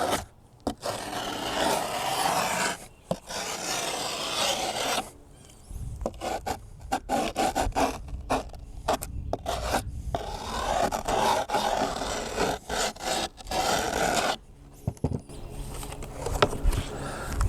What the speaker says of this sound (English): it's scraping and seeing the outline of the board under the grip tape